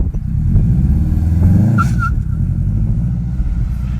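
A car engine revs loudly and steadily as the car pulls away, a continuous close rumble with a brief higher whine partway through, while a learner driver works the gears.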